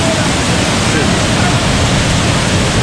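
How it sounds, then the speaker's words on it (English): The Lankvoku waterfall in Karbi Anglong, Assam, roars as a loud, constant broadband rush close by, steady and unbroken throughout. "This is a waterfall."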